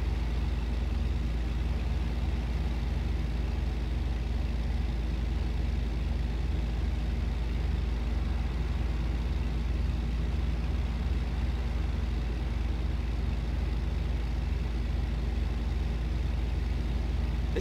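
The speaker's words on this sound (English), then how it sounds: "This truck has amazing sound quality. Like, it sounds like a real truck" A Kenworth W900 truck's engine in American Truck Simulator drones steadily from start to finish, a low, constant rumble that holds at the same level with no talk over it.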